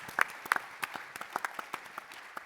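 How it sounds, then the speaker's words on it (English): Scattered, light clapping from an audience at a panel discussion on sports and tolerance: a handful of separate claps rising and fading over a couple of seconds, fairly quiet, with no voices. "So let's give him a round of applause."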